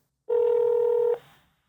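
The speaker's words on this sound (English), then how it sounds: "I'm going to make a phone call again to the global help desk with my mobile phone." A single steady electronic tone from a mobile phone dialing a help desk, sounding clearly for under a second and then fading out abruptly, heard alone in a quiet room.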